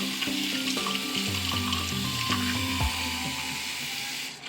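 A bathroom tap runs in a steady, close hiss while a blush makeup brush is wetted under the stream, with small splashy changes as the water hits the bristles.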